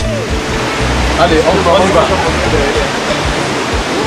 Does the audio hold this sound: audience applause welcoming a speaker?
no